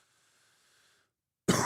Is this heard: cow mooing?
no